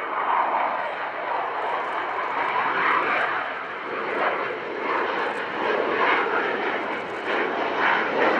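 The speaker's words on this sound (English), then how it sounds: "Now coming from a pair of General Electric F404 after the wind turbofans" A Super Hornet with twin General Electric F404 turbofans makes an airshow pass, a steady, broad jet roar with a rising and falling wash and no clear peak.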